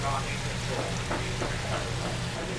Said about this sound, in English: Try to get a really nice sear on the fat and the skin